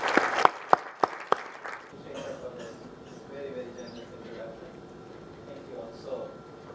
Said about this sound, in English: let's give Arvind a warm round of applause